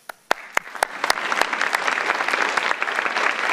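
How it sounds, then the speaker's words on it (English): Audience applause building from a few scattered claps into sustained, dense clapping from a sizeable crowd, loud and steady with no talking. "I'd like to give you a round of applause."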